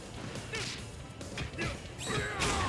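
A shatter strike landing in King of Fighters 15, sharp smashing hits with whooshes, several impacts in quick succession over a steady crowd-like background.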